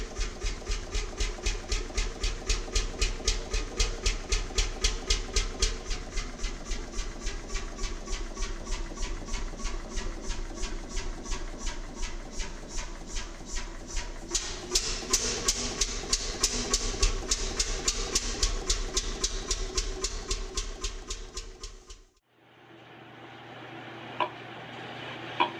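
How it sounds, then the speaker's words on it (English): A vintage Witte 6 HP KD stationary diesel-electric engine chugs steadily in a fast, even mechanical beat, loud and close, for about twenty-two seconds before cutting off into quiet room noise. "The Witte Diesel 6 HPKD diesel-electric is a classic example of a small stationary diesel engine designed for rural power generation"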